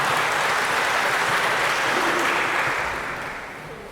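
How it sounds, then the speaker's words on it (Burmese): Wedding guests clap together in a full, steady wash of applause that carries on for several seconds before gradually tapering off at the end. "အားလုံးလက်ခုပ်တီးပြီးတော့ဂုဏ်ပြုပေးကြရအောင်နော်"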